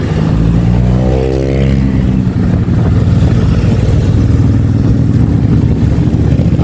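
A motorcycle engine roars close by, its pitch climbing as it accelerates past, over a constant loud rumble of traffic.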